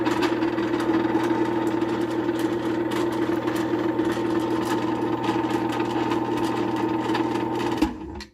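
A new Genie universal push-button garage door opener runs with a steady, loud motor drone and a rattling mechanical buzz, then cuts off abruptly near the end.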